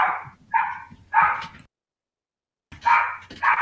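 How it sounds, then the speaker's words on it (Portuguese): A dog barks in bursts at home, three quick yapping barks, then a pause of about a second of silence and two more barks, loud and close, with no talking over them. "o cachorro tá enchendo o saco"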